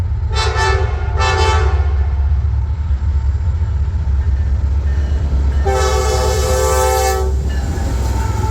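Norfolk Southern freight train sounding its horn in a salute: two short toots near the start, then a long chord blast around the middle, over a steady loud rumble of passing rail cars.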